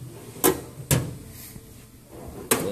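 Drawers in a truck driver's toolbox sliding open and shut, three distinct close, sharp clunks with short rattles, two in quick succession and a third after a pause.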